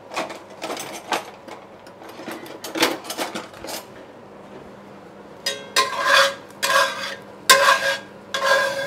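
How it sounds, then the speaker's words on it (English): A utensil scrapes charred bits from a pan used for cooking pork chops in a series of short, close, rasping strokes, with a brief quieter pause in the middle and no talking. "let's scrape our pan a little bit"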